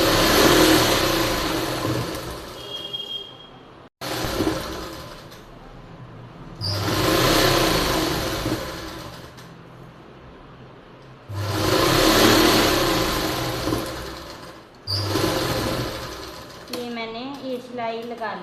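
A sewing machine stitches a heavy palazzo down a marked center line in a boutiquesetting, running in several sustained bursts with short pauses between them, loud and close, with occasional talk over it.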